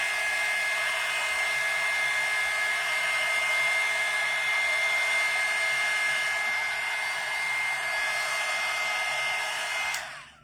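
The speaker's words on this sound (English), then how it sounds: "hit that with the heat gun real quick because that is not dry" A heat gun blows continuously at close range onto freshly painted craft pieces, a steady loud airy whoosh with a thin high whine that runs unbroken for about ten seconds before cutting off at the end.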